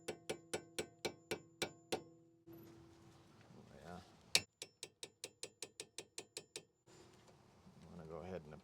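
A ratchet turns an Allen head on a sway bar link during front CV axle and tie rod work on a Mitsubishi RVR, with two quick runs of crisp evenly spaced clicks separated by muffled handling and scraping.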